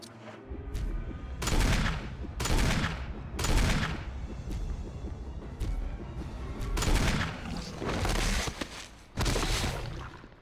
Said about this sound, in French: C'est moi ou Jill tire plus lentement au magnum que